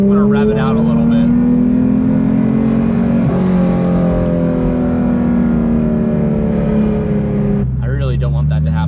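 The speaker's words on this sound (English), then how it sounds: "I'm gonna rev it out a little bit." A Porsche 911 GT3 RS, rebuilt after a crash, revs hard with its engine climbing and falling in pitch over several seconds. It is loud and close, and a brief lift comes near the end.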